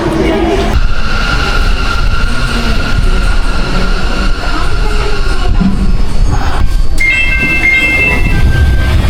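A Sendai subway train at a station platform, a loud, close rumble with a whining motor and bright, high squealing tones toward the end.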